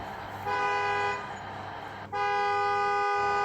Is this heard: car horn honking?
yes